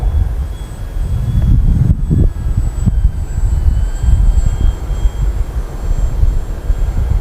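A model Hawker Tempest airplane climbs in strong wind, its engine a steady thin whine that rises and falls in pitch beneath loud, continuous wind rumble buffeting the microphone.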